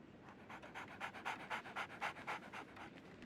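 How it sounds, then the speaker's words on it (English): Dog panting in the Sherlock video game, rapid rhythmic huffing breaths repeating steadily and close, fairly faint, with no talking. "So, Barnes has a dog now."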